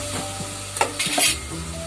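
Tomatoes cooking in a pan are stirred with a few scraping, clattering strokes over a steady low sizzle, close by with no talking.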